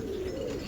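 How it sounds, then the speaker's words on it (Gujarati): A pigeon coos softly in a short, low, rolling call outdoors at Chowpatty beach. "તો આ તમે જોઈ શકો છો આટલા કબૂતરમાં એક વ્હાઈટ કબૂતર છે"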